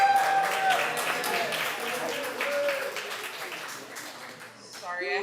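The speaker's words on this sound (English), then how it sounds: "round of applause for Mackenzie" Wedding guests at a reception at The Addison of Boca Raton clap in a moderate, steady patter for Mackenzie, with voices and faint tonal background sound mixed in.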